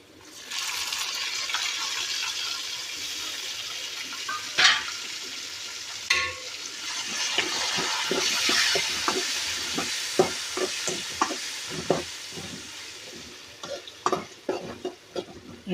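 Tomatoes tossed into a pan of frying okra with Rayalseema chilli powder: a loud hissing sizzle swells after they go in, broken by sharp clatters and scraping stirs of the spoon against the pan.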